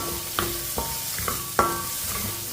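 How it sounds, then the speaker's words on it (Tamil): Chopped small onions sauté in a pan for a weight-loss soup, with a soft continuous sizzle broken by four sharp spatula taps and scrapes against the pan, no voices. "இதையும் நல்லா வதக்கிக்கிடுவோம்."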